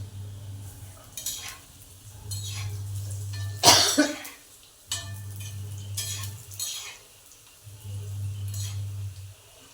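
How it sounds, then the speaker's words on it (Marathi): Chana dal vadas frying in a pan as they are turned over, with intermittent sizzle and scraping bursts, a loud clatter midway, and a low hum pulsing in and out between strokes. "आता आपण ही पलटी करून घेऊ"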